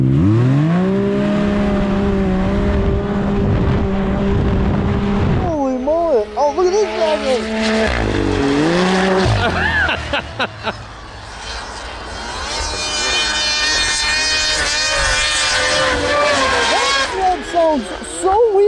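A Yamaha VMAX 4 snowmobile engine revs loud and close, holding a steady drone, then climbing and dropping in repeated wavering sweeps before settling into a high sustained whine.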